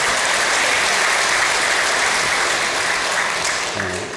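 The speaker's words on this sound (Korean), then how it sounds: "우리 홍준표 시장님 큰 박수 한번 부탁드리겠습니다" A large audience at a Daegu regional meeting of the 21st Peaceful Unification Advisory Council applauds Mayor Hong Joon-pyo, loud dense clapping sustained throughout and tapering slightly at the close.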